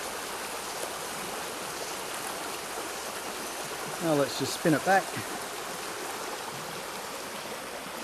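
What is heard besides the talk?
stream water flowing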